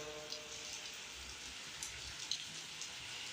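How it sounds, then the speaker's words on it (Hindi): Heavy rain falls in Lahore as a steady, dense hiss with scattered sharper drops, continuous and fairly close throughout, with no voices. "बारिश मेरे दोस्तों बहुत ज़्यादा हो गई है, बहुत शदीद बारिश शुरू हो गई है"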